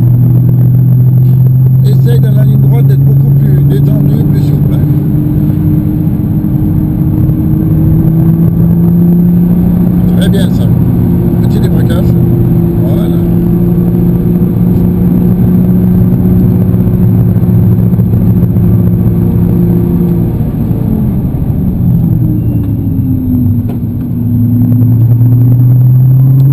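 A car on the Dijon circuit during a driving lesson gives a loud, sustained engine drone whose pitch climbs and shifts through the run, with intermittent talking inside the car over it.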